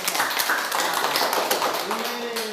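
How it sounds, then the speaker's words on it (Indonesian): An audience at an Indonesian Islamic study talk applauds, a light scattering of claps and taps at moderate volume, with a voice speaking partway through. "Iya, kita akan kasih aplaus dulu"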